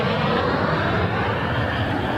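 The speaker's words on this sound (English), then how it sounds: "So MD-11 is going up to the cargo section, isn't it?" MD-11 cargo jet taxiing toward the cargo area at Frankfurt airport, a steady rumbling engine drone, moderately loud and constant, with no talk.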